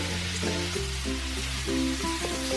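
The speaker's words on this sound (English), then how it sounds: "cubed meat and sauté it well with the aromatics" Cubed pork sautéing in a pan with aromatics and black pepper, a steady close sizzle with occasional stirring scrapes and clinks, no talk.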